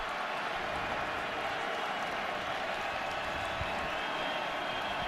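A stadium crowd at a Notre Dame vs Arizona State college football game, a steady broad roar of many voices with faint scattered applause, carrying on without a break.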